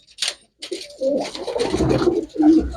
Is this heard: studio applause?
no